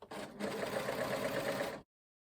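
A sewing machine, an overlocker, runs in one steady burst while stitching up the side seam of a top, close and alone before stopping abruptly.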